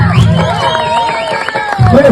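A crowd at a Pongal festival game cheers and whoops loudly, with excited shouting and possible clapping mixed in, a short close burst of massed voices.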